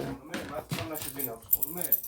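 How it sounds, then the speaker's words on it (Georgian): Keys jangling faintly in a home while a person speaks close by, the metallic rattles briefly poking through the talk. "გასაღები მომიტანე"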